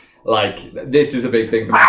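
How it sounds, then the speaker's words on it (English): A pet dog barks and yips in short bursts close by, mixed in with a person talking over it. "That's my dog."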